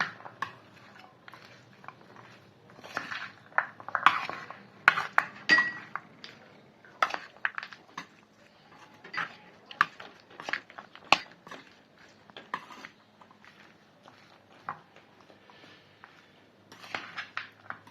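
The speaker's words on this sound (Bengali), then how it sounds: "ফোর টিস্পুন আমি তেঁতুলের পাল্প ইউজ করব আবারও ভালো করে নেড়ে চেড়ে মেখে নেবো" Aloo kabli being mixed with tamarind pulp in a bowl, producing irregular bursts of spoon clinks and scraping against the bowl, close and fairly quiet, clustered in quick runs with short pauses, no voices.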